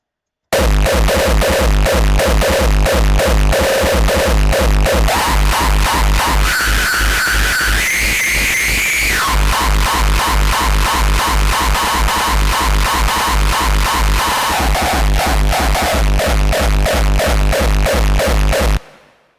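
Fast, relentless distorted gabber kick drums made in Ableton Live pound in a rapid stream, loud and harsh, with the tone shifting partway through before cutting off at the end.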